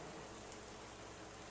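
Steady rain pours down on a walker who is soaked through, a constant, even hiss of falling water with no voices.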